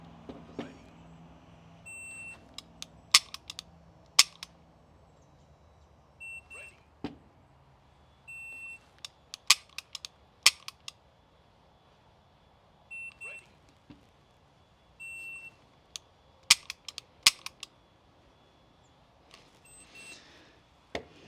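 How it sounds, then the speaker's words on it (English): A shot timer during dry-fire trigger practice with a handgun: several sets of sharp clicks and short electronic beeps spaced apart, over a quiet room background with no voices. "I'm gonna have 3 sets, so it'll record both trigger pulls."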